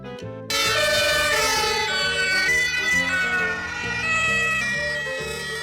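A fire ambulance siren breaks in after a brief silence with loud, layered wailing tones that shift pitch in steady steps and continue without pause.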